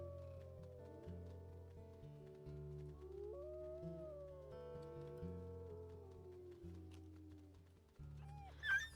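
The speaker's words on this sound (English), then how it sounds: "We can hear the other wolves howling around" Wolves howl in the WolfQuest video game, long wavering tones rising and falling over a steady low musical drone, several overlapping calls at moderate distance with no talk.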